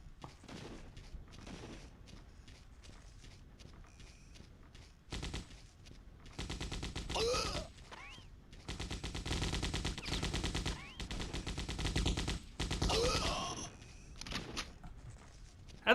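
Rapid machine gun bursts fire in the Codename Eagle video game, from enemy soldiers with MGs. Several loud, crackling volleys follow one another over quieter gunfire and background noise.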